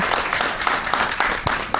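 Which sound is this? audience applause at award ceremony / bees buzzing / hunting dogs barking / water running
audience applause at award ceremony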